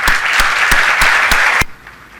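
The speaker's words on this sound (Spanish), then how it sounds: "los despedimos con un aplauso." A conference audience claps together with steady applause, a few sharper claps standing out, before it cuts off abruptly.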